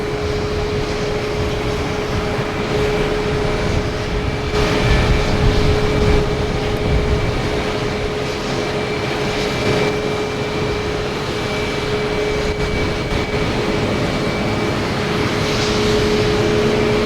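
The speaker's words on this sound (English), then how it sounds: "next to arrive is Aer Lingus coming in from Dublin at A330," An Aer Lingus Airbus A330-300 arriving from Dublin at Boston Logan Airport, heard as a continuous loud jet engine roar with a steady whine, holding an even level throughout.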